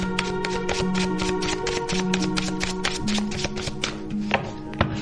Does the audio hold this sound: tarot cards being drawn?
yes